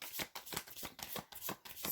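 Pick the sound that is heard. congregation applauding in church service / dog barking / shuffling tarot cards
shuffling tarot cards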